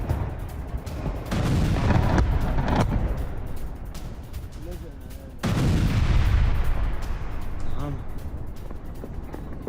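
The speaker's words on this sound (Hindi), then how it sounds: "आईडीएफ मिसाइल अटैक से दहला हरमेल शहर" Missile strikes hit the Lebanese city of Hermel, and heavy explosions land as two deep booming bursts with rumbling aftermath. They sit under a dense, noisy mix with a voice talking.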